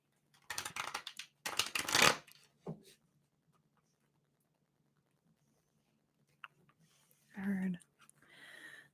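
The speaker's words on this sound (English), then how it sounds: "I'm just going to shuffle some cards first, shuffle some decks" Tarot cards are riffled and shuffled in a few quick bursts, then a pause before faint rustling and a brief voice-like sound.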